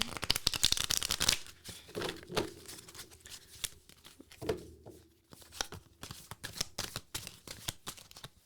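A tarot card deck riffles and shuffles in quick papery bursts, close up, with pauses and soft handling noises between rounds.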